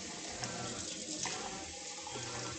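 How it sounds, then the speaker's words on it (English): A kitchen tap runs steadily while hands are washed, a continuous close hiss of flowing water with faint splashes and no speech. "I'm gonna wash my hands again."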